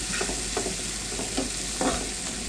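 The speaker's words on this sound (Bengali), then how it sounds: "পেঁয়াজ মরিচটা সুন্দর করে ভেজে নিচ্ছি" Onion and chillies fry in hot oil with a steady, close sizzle, while a spoon scrapes through the pan in several strokes, each one briefly lifting the crackle.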